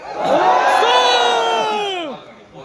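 An audience in a hall shouts and cheers together on cue, a loud burst of many voices that swells quickly, holds, then fades out after about two seconds.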